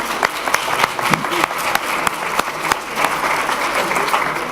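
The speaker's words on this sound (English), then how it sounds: "Martin deserves a huge round of applause." A lecture audience at a treaty law class applauds, a full, continuous wash of clapping hands with frequent sharp individual claps, loud and sustained with a faint murmur of voices beneath.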